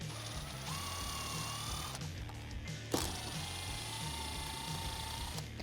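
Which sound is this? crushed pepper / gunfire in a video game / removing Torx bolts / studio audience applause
removing Torx bolts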